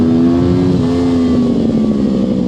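A go-kart on an outdoor karting track accelerates out of a corner, its small engine revving in a steady, rising drone heard close and continuous, with no talk.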